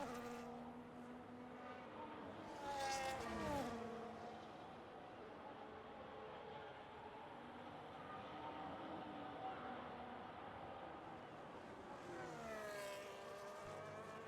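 Race car engine whining through a lap of Abu Dhabi in a sim racing game, RB livery, with steady engine drone and rising and falling gear-change sweeps, loudest near the start and end, under faint commentary.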